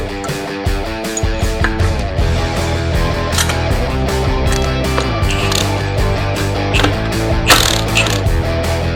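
A ratchet turns the engine of a Yamaha YZ450F dirt bike over by hand, giving a dense run of close mechanical clicks and ratcheting that carries on steadily, with no talking.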